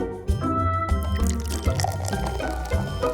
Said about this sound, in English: Time to start pouring the soda into the cup.